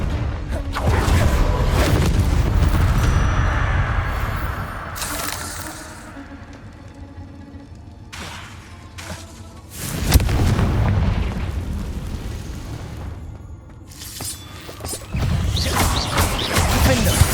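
Repeated booming blasts from the Confringo spell in Hogwarts Legacy, heavy explosions in several waves with quieter gaps between, mixed with game effects and voiced spell calls.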